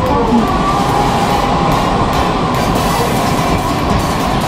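Train on the Nara Line pulling into Rokujizo Station, a loud continuous rumble and rolling wheel noise filling the whole stretch, with a faint rising whine as it moves.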